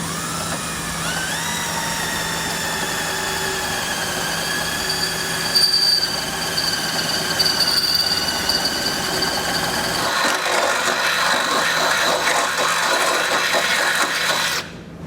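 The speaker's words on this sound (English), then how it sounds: "we can drill right up into the bottom of our bumper beam and create a hole" Power drill boring into the bottom of a steel bumper beam on a 2021 Jeep, a steady loud whining whir that climbs in pitch, then turns rougher and grinding as the bit bites, stopping abruptly at the end.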